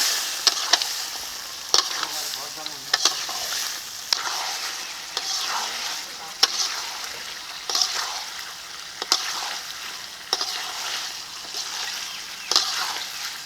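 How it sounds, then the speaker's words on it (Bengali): Duck meat curry with whole garlic and fried potatoes stir-frying in oil in a pan, a steady close sizzle broken by regular scraping stirs every second or two. "এখন মাংসটাকে আবারও কিছুক্ষণ কষিয়ে নেব"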